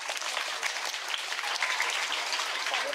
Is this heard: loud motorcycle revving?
no